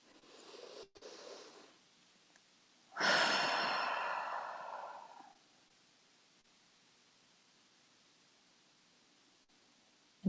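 Deep breath during a guided relaxation: a single long, airy exhalation lasting about two seconds, close and fairly loud, preceded by faint softer breathing and followed by quiet room tone.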